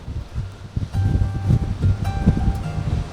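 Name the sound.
strong wind on coastal path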